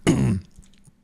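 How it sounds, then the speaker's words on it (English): A single throaty cough from a person with allergies, close to the mic and loud, clipped short, followed by near silence. "Sorry for the cough and the sniffles."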